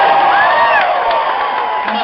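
Large political rally audience packed into a university auditorium, cheering and whooping loudly in a continuous roar that holds steady throughout.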